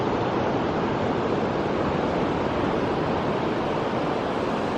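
Ocean surf rolls in at Dunnet Bay beach in Scotland, a dense, unbroken roar of breaking waves with no voices.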